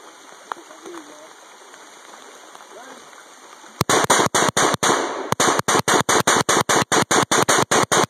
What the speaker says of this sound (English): He's gonna shoot his gun.